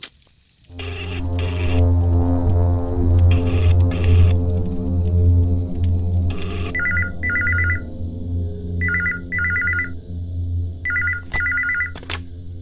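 A telephone rings in repeated bursts, loud and close, with a steady low hum beneath and no talking.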